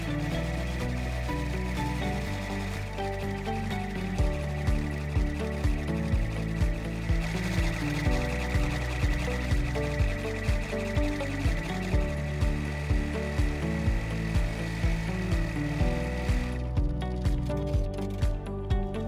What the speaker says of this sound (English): we will continue by placing the hoop back onto the machine and running the border stitches